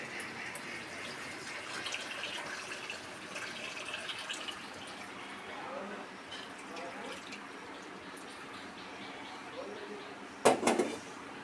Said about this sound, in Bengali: এখন পানি দিয়ে দেওয়া হচ্ছে গরম পানি